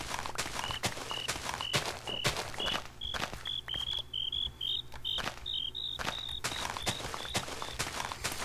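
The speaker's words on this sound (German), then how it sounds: "Und die Grillen kommen raus" Crickets chirp steadily at dusk in the Minecraft video game, a repeating high-pitched trill pulsing at a regular rhythm over a low ambient hum, with no talk.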